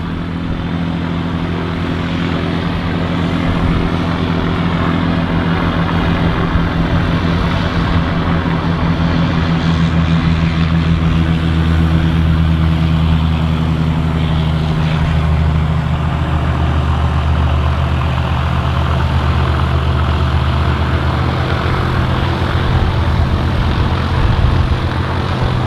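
A propeller aircraft rolls for takeoff at Manchester City Airport, its steady engine drone loud and continuous throughout, with a deep hum and propeller throb holding at an even level.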